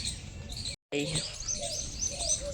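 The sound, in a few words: sparrows and mynas chirping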